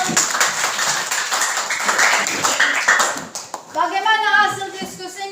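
A classroom of students claps for a group of classmates, a dense burst of many hands from the start, while a voice speaks over the clapping toward the end.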